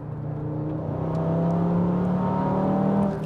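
An Audi RS3 with Stage 2 tuning and a 2.5-litre engine accelerates, its loud, steady drone rising slowly in pitch and swelling as it pulls, with no talking.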